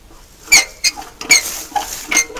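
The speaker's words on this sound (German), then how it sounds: "Der weltberühmte Schatzsucher Stefan Schöller-Springer quietscht" Sharp high squeaks come in short irregular bursts, about five in a couple of seconds, fairly close and loud with quiet gaps between them, and no speech.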